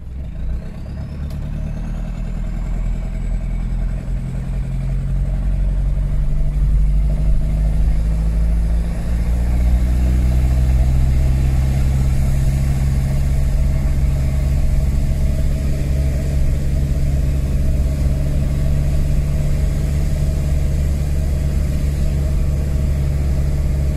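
An off-road vehicle's engine, started after standing still a long time, runs steadily with a low rumbling drone that rises slightly as it settles in, close and continuous with no talk.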